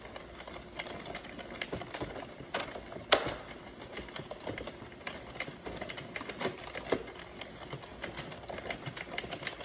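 An Addi knitting machine turned by hand, running quietly with a soft, steady stream of light clicking and ticking, faint and close, with no voices.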